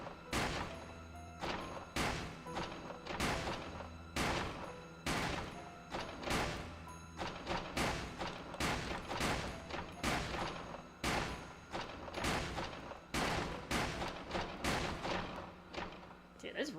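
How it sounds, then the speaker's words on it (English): Pistol fire in the video game Shadow Hearts: Covenant, with heavy recoil. About twenty sharp, punchy shots ring out at a steady, fairly quick rhythm over roughly seventeen seconds, with a low hum running underneath. "Dude, this recoil on the pistol is bad."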